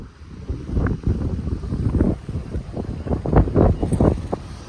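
Gusty wind on a cold, wet day in the Czech Republic buffets the microphone in uneven rumbling bursts, loud and close, with no voices.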